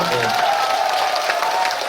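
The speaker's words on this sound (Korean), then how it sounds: "다시 한번 큰 박수 부탁드리겠습니다" An audience at a year-end concert claps steadily in a brief burst, with a voice carrying faintly over the applause.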